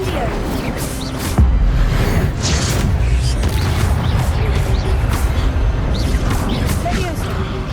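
An Incendio fire spell is cast during Hogwarts Legacy combat, giving a loud, dense burst of booming and crashing game effects. A sharp hit near the start is followed by sustained rumbling action, with voices in the mix.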